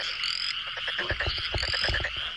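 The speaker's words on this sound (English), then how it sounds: "Frog!" Several short, rhythmic frog croaks pulse in two bursts over a steady chorus of high-pitched trilling insects or frogs.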